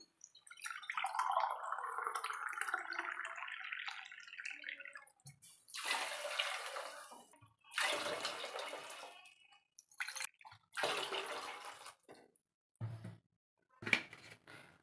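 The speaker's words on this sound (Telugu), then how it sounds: "నేను 2 గ్లాసుల బియ్యం తీసుకున్నాను కాబట్టి 4 గ్లాసుల వాటర్ పోస్తున్నాను" Four glasses of water are poured one after another onto rice in a cooking pot for Telangana bhagara rice, each pour a splashing, gurgling burst separated by short pauses, close and without talk.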